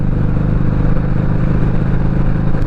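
A Harley-Davidson Sport Glide with a Memphis Shades Road Warrior fairing cruises steadily at 50 mph, its engine giving a continuous low rumble with wind noise, close and loud throughout without talk.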